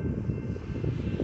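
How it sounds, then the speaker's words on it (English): A train roars through a level crossing as a truck waits nearby, producing a loud, continuous low rumble that holds steady for a moment without any voices. "All he and the young trucker could do was watch as the train came roaring through."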